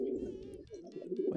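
Pigeon cooing in the Hiveswap video game, a steady, close, throaty coo that rolls on for over a second with light game sounds behind it and no talk.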